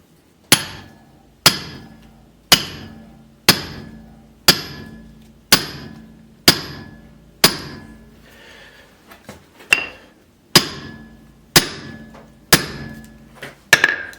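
A hammer strikes a splitting wedge driven into firewood about a dozen times in an even rhythm, each sharp metallic ring close and loud, with a brief pause midway.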